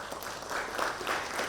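Audience applause after a talk at a drinking-water research symposium, a steady dense wash of many hands clapping throughout, moderately loud with no clear voices on top.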